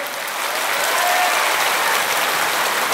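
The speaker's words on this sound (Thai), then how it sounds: "ปรบมือพร้อมกันหน่อยสิ" A large crowd at a Thai Prime Minister's public meeting celebrating completion of a Thai friendship bridge applauds together, a dense, even wash of clapping that swells slightly and holds steady with no voices.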